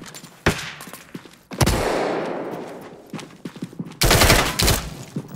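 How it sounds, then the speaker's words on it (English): A flashbang and gunfire in the tactical shooter Ready Or Not: a sharp bang, then a loud blast with a long decaying hiss, and later a dense burst of rapid shots, all close and loud. "Tossing a flashbang!"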